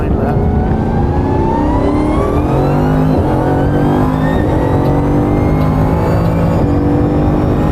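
Supercar accelerating hard out of the last corner onto the start-finish straight on a flying lap, a loud close engine roar rising steadily in pitch through the gears, with voices talking over it.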